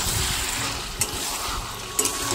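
Malabar spinach chachchari with a little sugar being stirred in a pan, a steady hissing sizzle with two brief spoon clinks about a second apart, close and alone.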